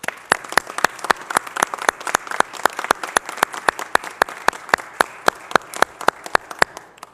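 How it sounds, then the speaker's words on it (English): Applause for Philadelphia firefighters of Local 22 at a city press announcement, heard as sharp, evenly spaced claps in a steady rhythm over a softer bed of scattered clapping, continuing for about seven seconds without talk. "they deserve a huge round of applause"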